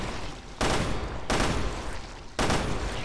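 Three loud bursts of gunfire aimed at sloppers in the video game Resident Evil Revelations 2, each a sharp crack with a short ringing tail, spaced about a second apart over a dense noisy game background.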